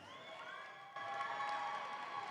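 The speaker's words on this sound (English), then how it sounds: "Sounds like they've got a cheering crew here today" Supporters cheering in a large hall at a FIRST Tech Challenge state robotics championship, a faint distant crowd roar that swells a little louder partway through.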